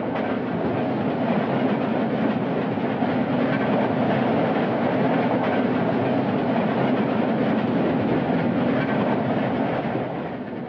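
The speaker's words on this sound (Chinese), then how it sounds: "第一站的电车行程6300米，要行驶40分钟。" An electric mine train runs through an underground tunnel in a century-old mine, a dense, continuous rumble and rattle that holds steady and loud throughout.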